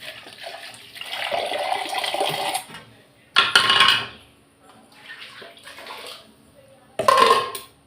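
Water poured into a pot of simmering garlic kulambu, a Tamil tamarind-based curry, in a home kitchen: a sustained splashing pour, then shorter bursts with clinks of a vessel, close and moderately loud with no talk.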